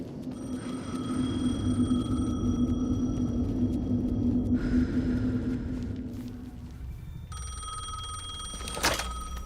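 A telephone rings in the video game Alan Wake 2, a sustained electronic bell ringing steadily over a low rumbling game ambience, with brief pauses between rings and one sharp burst near the end.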